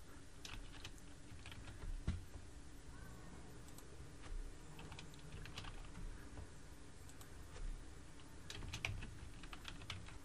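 Quiet, close keystrokes on a computer keyboard patter irregularly as answers for a spreadsheet drop-down list are typed, with occasional louder taps in a low room hum.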